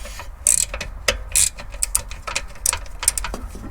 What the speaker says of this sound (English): try to reapply some torquage on the lower